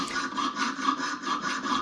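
A jeweler's saw cuts through a copper ring in steady, smooth, light strokes, a close rhythmic rasping that repeats about every quarter second with nothing else heard.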